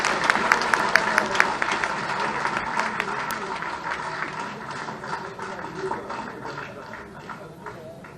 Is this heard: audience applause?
yes